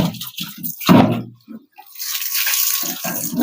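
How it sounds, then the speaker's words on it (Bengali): A clay cooking pot, soaked for a day, is rinsed and washed under running water, with splashing and trickling that rise and fall and a short pause midway, close and fairly loud. "হাড়িটাকে ভালো করে ধুয়ে নেব"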